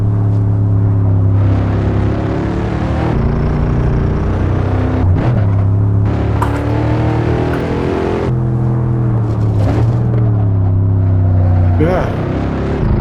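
A Mercedes-AMG E63 S Estate (W213) in Assetto Corsa revs hard and steadily, with a loud, dense engine drone whose pitch climbs and drops through repeated gear changes over several seconds.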